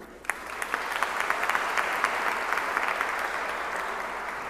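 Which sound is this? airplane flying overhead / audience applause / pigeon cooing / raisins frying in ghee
audience applause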